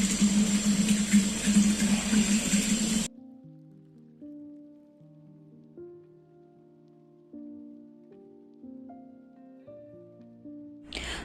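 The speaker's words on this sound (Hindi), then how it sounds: "इसमें पानी भी दे देते हैं क्योंकि काफ़ी दिनों से ये सूखा हुआ है" Water splashes and patters steadily onto dried-out garden plants for about three seconds, then stops, and soft melodic music with gentle plucked notes follows.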